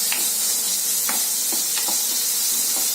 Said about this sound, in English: Lightly fry for 1 or 2 minutes until the color slightly